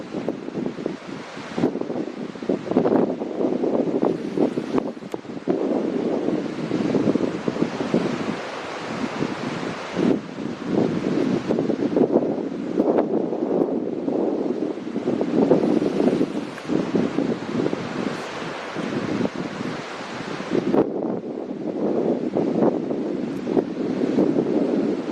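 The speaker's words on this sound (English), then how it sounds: "windy day out here." Strong wind buffets the microphone in gusts for a long stretch, rumbling and rising and falling, with a faint wash like distant surf beneath, on the dunes near the SpaceX launch site at Starbase, Texas.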